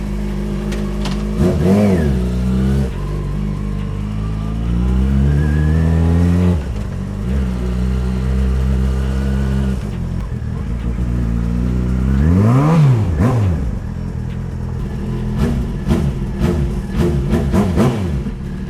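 A loud Jaguar XJ6 engine idles close by and revs up sharply several times, the pitch climbing and falling with each throttle blip.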